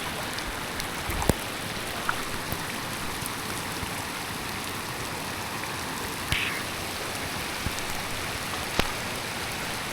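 Steady rain patters down during sunshine on a trip in Quezon Province, a constant close hiss of drops on a surface with a few louder individual splats scattered throughout, no voices heard.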